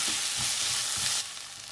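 Tomatoes sautéing in a hot pan for a village-style fish curry, giving a steady close sizzle with a few stirring scrapes, then the frying noise drops softer near the end; no voices.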